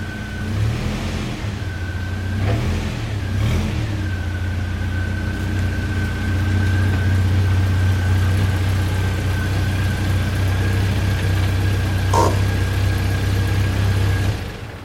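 A Jeep Wrangler engine runs steadily and loudly nearby as the vehicle pulls out, its deep rumble continuous throughout with slight shifts in revs.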